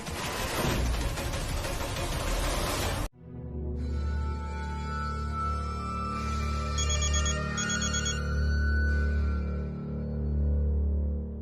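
After a burst of loud noise cuts off abruptly, a telephone rings in a repeating electronic ringtone pattern over a low steady background, carrying on alone for several seconds.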